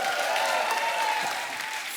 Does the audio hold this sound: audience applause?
yes